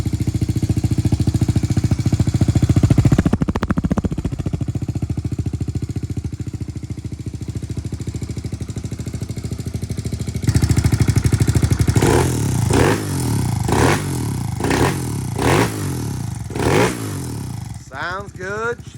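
A Kawasaki KLX110L with a big bore kit and new cam idles steadily, then revs in a series of sharp, repeated throttle blips near the microphone, with a person speaking briefly partway through.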